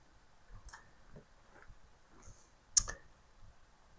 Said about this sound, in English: And I click point A and point B.